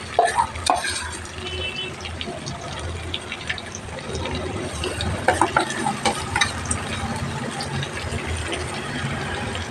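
Fish and onion paste frying in a pan, with a steady sizzle under repeated clattering stirs and scrapes at close range.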